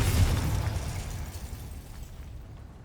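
A Confringo spell explosion in Hogwarts Legacy, a loud deep burst with a rumbling low end that decays steadily over a couple of seconds, with no talk over it.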